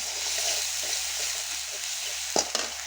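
Ginger-garlic paste and chopped onion fry in hot oil with a steady, close hiss that fills the whole clip, and a couple of brief stirring knocks come near the end.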